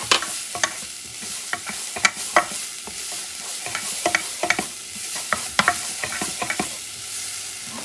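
Minced garlic cloves sizzle and fry in a hot pan while a spoon stirs, leaving sharp scraping clicks at an irregular rhythm over a steady low crackle. No one speaks.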